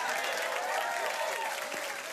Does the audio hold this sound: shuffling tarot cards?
no